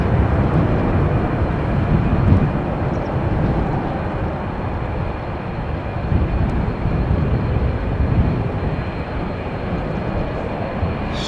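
Delta Airbus A330-300 engines roaring during a rejected takeoff at Amsterdam Schiphol, a steady broad rumble heard from a distance that holds for the full stretch with no voices over it.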